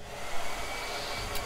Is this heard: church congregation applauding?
no